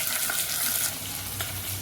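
Spices crackle and sizzle in hot oil, a steady close frying hiss with small pops.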